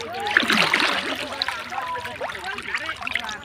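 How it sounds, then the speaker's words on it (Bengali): Water splashing and trickling as a person bathes in a river on the Ashtami holy bathing day, with irregular nearby splashes over a steady flowing background. "অষ্টমী স্নান আমি নদীতে করতেছি"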